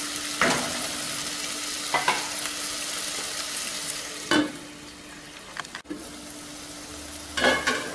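Okra masala (lady's finger fry) frying and sizzling in a clay pot, with a steady close crackle broken by several sharp scraping stir strokes at irregular intervals.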